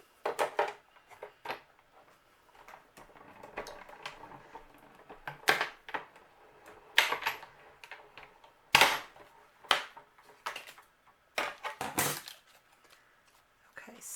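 A die cutting machine runs taped paper through with a die, making intermittent clicks, clacks and crank rattles at close range with quiet pauses between bursts.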